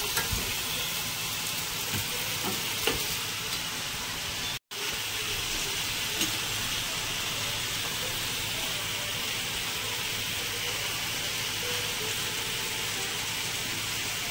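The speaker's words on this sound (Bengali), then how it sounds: "এদিকে ঢেঁড়স আলু ভাজা বসিয়েছি" Okra and potatoes frying in a pan give a steady, even sizzle that runs throughout, with faint clinks now and then and a brief drop-out partway through.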